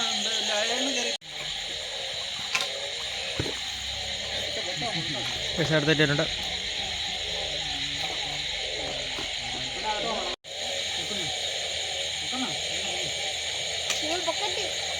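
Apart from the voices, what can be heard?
frogs croaking at night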